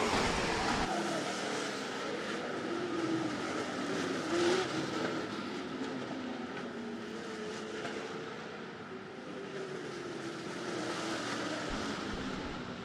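Late model street stock race cars roar around the dirt oval at Rapid Speedway, a distant, sustained engine drone that swells and fades as the field circles the track.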